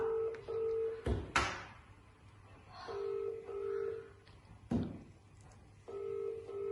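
A telephone being dialed, heard as repeated short steady touch-tone beeps separated by sharp clunks and door-like knocks, fairly faint and in short bursts with pauses, with no talk.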